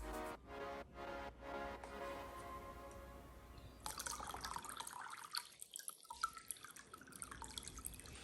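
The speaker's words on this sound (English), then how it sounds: "go ahead and fill it up full of water and to see if there's any breaches" Water is poured into sealed containers to test for leaks. A few slow drips come first, then a steady, close stream of pouring water fills the rest, with no talking.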